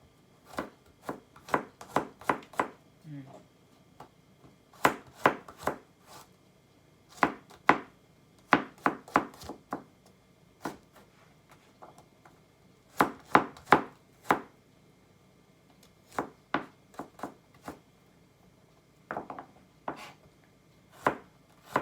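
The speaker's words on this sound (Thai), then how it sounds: "เดี๋ยวมาหั่นกระเทียมก่อนนะคะ" A knife chops garlic quickly on a cutting board in irregular bursts of rapid taps with short pauses, close and crisp, with no voices.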